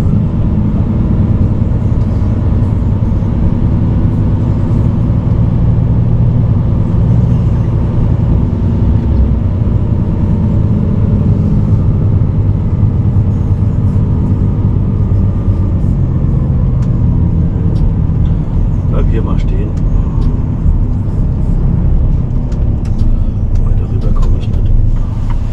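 A truck rumbles past with a steady low engine drone lasting the whole stretch, fairly loud and close, with voices in the background.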